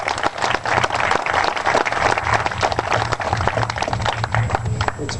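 Crowd applauding for regatta rowers, competitors, coaches and supporters at an outdoor canal-side event, dense steady clapping held at full strength throughout with a low hum underneath.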